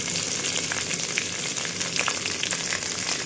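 Capsicum hitting a hot frying pan with cumin, crackling in a steady, close sizzle with scattered pops throughout and no voices.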